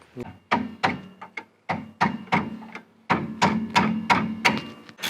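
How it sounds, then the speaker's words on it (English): A small hammer taps out a tight bolt on a Mk2 Volkswagen Golf, sharp close metal knocks in uneven bursts with brief pauses between groups of strikes. "I'm going to get a wee hammer to tap it out"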